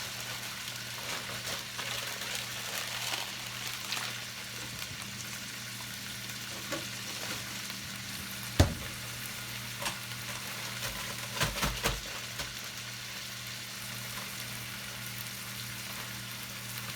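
Peppers and onions fry in a pan for a budget vegan meal. A continuous faint sizzle is heard with occasional stirring knocks, including one sharp clunk midway, over a low steady hum, with no speech.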